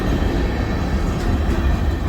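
CN freight train S707 rolling past at West Ladysmith, a loud, continuous rumble of wheels on rails that holds steady throughout, close by, with no talk.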